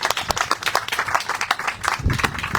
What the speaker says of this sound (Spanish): pido por favor un aplauso para recibirlas en este foro a las 3 personas